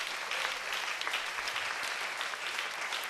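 A church congregation breaks into applause, a dense, steady clapping that holds at full strength across the whole stretch with no voices over it.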